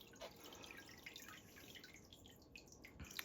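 Water drips quietly from freshly watered white onion seedlings in a tray, a scattering of soft, irregular close drops over faint background hiss.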